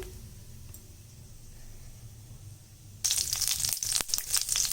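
Oil sizzles and crackles loudly as mustard seeds and urad dal lentils hit the hot pan for tempering, starting abruptly after a quiet stretch with low kitchen hum.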